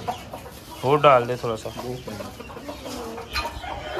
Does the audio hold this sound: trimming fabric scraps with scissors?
no